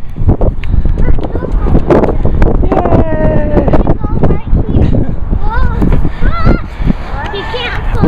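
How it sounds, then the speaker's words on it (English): Cold, gusty wind buffets the microphone outdoors, a steady low rumble running under the voices of several people talking throughout. "It's windy and it's kind of cold today."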